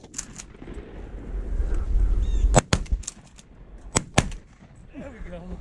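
Shotguns fire during a duck and goose hunt at a pond, with several sharp loud blasts in uneven succession, two of them close together, between stretches of rustling and low background noise.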